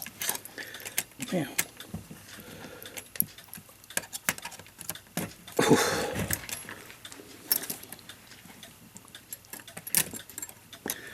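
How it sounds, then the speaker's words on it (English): Click spring being worked loose on a Waterbury bim-bam clock strike movement, with small metallic clicks, ticks and jangling taps close up, while someone talks briefly. "Okay, get the click spring loose. I just need to get the click loose."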